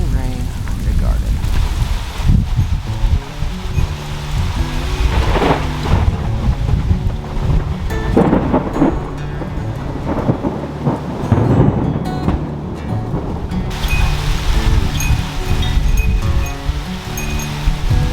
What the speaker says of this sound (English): We're getting our rain. Nothing better than rain.